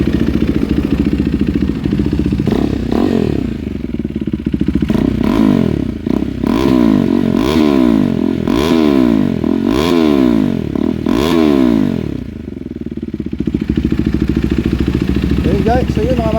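A 2022 KTM RC 390 motorcycle with its catalytic converter removed revs repeatedly from idle, about half a dozen loud, close rising-and-falling blips over a throbbing idle before settling back down.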